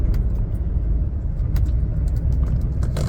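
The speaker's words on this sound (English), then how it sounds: "When you accelerate, a lot of power coming from the front." Ford F-350 4WD extended-cab truck with a utility body accelerating in 4x4 low, a steady close engine rumble that holds even throughout with no talk.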